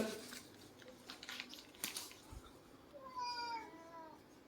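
After some faint rustling and a brief tap, a cat meows a few times in a soft drawn-out cry.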